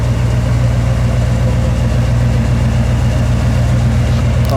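A 1981 Chevrolet Camaro Z28 sits idling with a deep, steady exhaust rumble, close and loud, holding an even, unbroken burble throughout.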